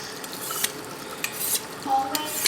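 Several quick scraping swipes of a knife across a sharpening stone, short gritty strokes repeated in an uneven rhythm, fairly close but soft, with no talking.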